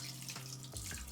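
A bathroom tap runs steadily to warm water for a washcloth, a soft continuous hiss with faint splashing and shifting low tones, no voices.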